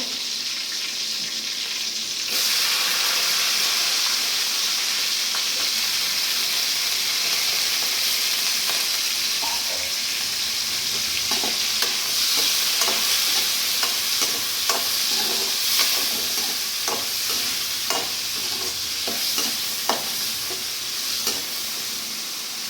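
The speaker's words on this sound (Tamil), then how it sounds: "நல்லா பொன்னிறமாக வர மாதிரி கொஞ்ச நேரம் வதக்கணுங்க" Two large onions, finely chopped, sauté in a pan for egg hakka noodles, giving a loud, steady sizzle broken by frequent scraping stirs, with no talking.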